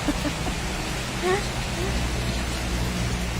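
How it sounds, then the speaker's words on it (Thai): Evening rain falls outside a home in a steady, even hiss of drops on surfaces, with a faint voice-like sound briefly above it. "ฝนตกค่ะ วันนี้ ตกตอนเย็นนะคะ"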